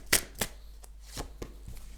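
Tarot cards shuffled by hand, a few quick, soft riffling snaps spaced apart, close and quiet, with no talk.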